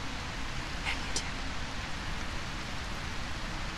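Steady rain pours in a horror video game, a dense broadband patter that fills the whole scene evenly, with a couple of faint brief ticks near the start and no voices over it.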